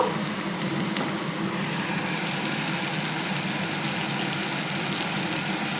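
Onions with a pinch of salt fry in a pan for a curry, a dense, continuous sizzle holding at a steady level throughout, heard up close without any talk.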